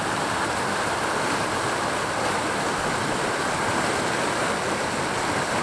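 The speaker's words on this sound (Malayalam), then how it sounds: "ഇതാണ് ശക്തമായി ഒഴുകുന്ന സ്ഥലമാണ്." Strong river water pours over a weir built partly of stone and partly of concrete in a continuous, dense rushing roar that stays loud and unchanging throughout.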